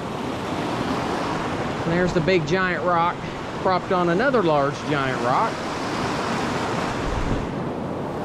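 A river rushes along a mountain trail, a continuous broad roar of water running steadily throughout while someone speaks over it for several seconds.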